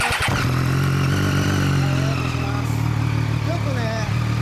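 A 2013 Triumph Daytona 675R fitted with a Two Brothers exhaust runs close by at a steady idle with a deep, even hum, while people talk over it.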